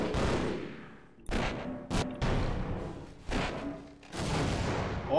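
Repeated loud bursts of gunfire from an inaccurate weapon in the video game Half-Life, rattling in several uneven volleys across a few seconds with brief gaps between them.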